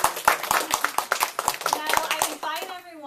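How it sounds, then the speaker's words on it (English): Audience applause at a Toastmasters club officer installation: a steady, evenly paced run of distinct claps, close and moderately loud, with a voice speaking over the end. "Another round of applause."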